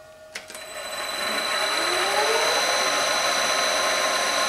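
Milling machine running with the power down feed engaged, a steady whining motor hum that rises after a brief click and then holds a constant, fairly loud tone with no speech.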